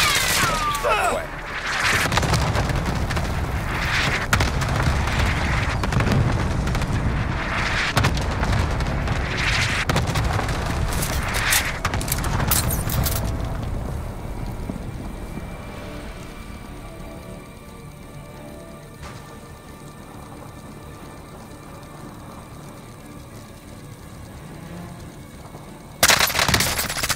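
Sustained machine-gun fire and booming artillery in a military shooter game after a call for fire, loud dense bursts for the first half, then quieter rumbling and scattered shots, with a final sharp blast near the end; voices talk over it.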